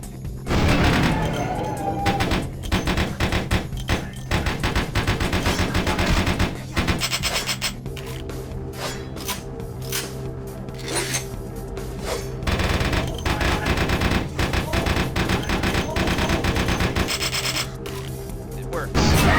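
Rapid gunfire from a weapon in Vampire: The Masquerade - Bloodlines, loud bursts and dense rattling shots running almost continuously over game music and effects.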